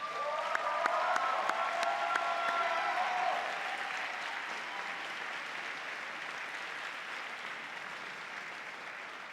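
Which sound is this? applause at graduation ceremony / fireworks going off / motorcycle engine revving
applause at graduation ceremony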